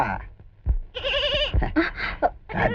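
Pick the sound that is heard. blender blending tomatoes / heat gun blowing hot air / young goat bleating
young goat bleating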